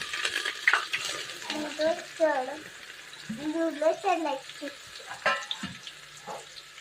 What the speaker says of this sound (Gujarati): હવે નાખશું મીઠો લીમડો, હવે નાખશું આપણે આદુ, લીલું લસણ